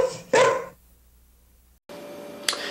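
A bloodhound barks in a political TV ad, two loud close barks followed by a quieter stretch of low background sound and then a brief sharp noise.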